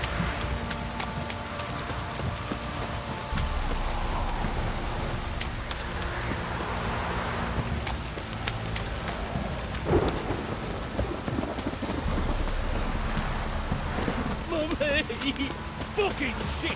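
Rain and rolling thunder in the video game The Witcher 3, played on an HP Omen 17 2019 laptop: steady dense rainfall throughout with deep rumbling thunder, a sharp crack near the middle, and faint hoofbeats.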